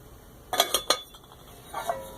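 Cast iron cookware, including a Griswold pan, clinks and clanks while being handled: three sharp metallic knocks in quick succession, then a softer clink after a pause.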